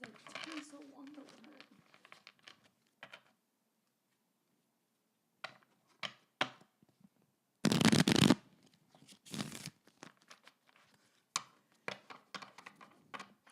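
Quiet shuffling of playing cards comes in short riffling bursts separated by pauses, with a couple of louder ripples of cards near the middle; soft talk comes and goes.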